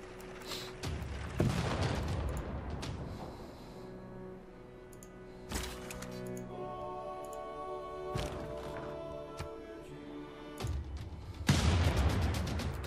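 Cannons firing in Civilization 6, a handful of sharp booming blasts spaced a few seconds apart over game ambience, with faint clicks between them.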